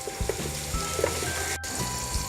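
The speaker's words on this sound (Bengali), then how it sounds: "আমরা পেঁয়াজগুলো দিয়ে দিয়েছি। এবার এটাকে আমরা ভালোভাবে ভেজে নিব।" Chopped onions sizzling and frying in a pan for Bengali-style chicken khichuri, a steady close crackling hiss throughout with no talk.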